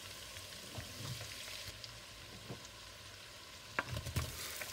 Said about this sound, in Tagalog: gagamitin natin na pang saute ng ating garlic at lalagyan natin ng butter